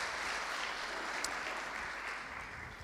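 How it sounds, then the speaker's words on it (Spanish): A church congregation applauds the musicians with steady, dense clapping that holds for the whole stretch and eases slightly toward the end. "Le damos un aplauso a los músicos también."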